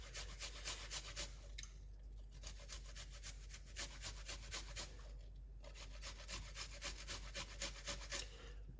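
Fresh ginger rubbed against a grater in repeated rasping strokes, moderately close but fairly quiet, with a steady rhythmic scrape and brief pauses between bursts.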